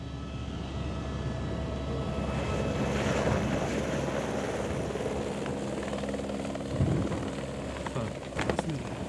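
Mi-26 heavy-lift helicopter flying over the flood-damaged Kedarnath valley, a steady distant rotor drone under someone speaking, with a few brief knocks near the end.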